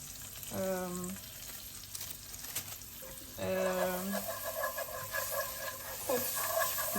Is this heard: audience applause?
no